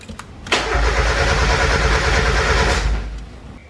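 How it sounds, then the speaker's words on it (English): A turbocharged NA Mazda MX-5 Miata cranks to relieve fuel pressure, with the fuel pump relay pulled. Its starter churns steadily and loudly for about two and a half seconds, then winds down. "Crank the car to relieve fuel pressure."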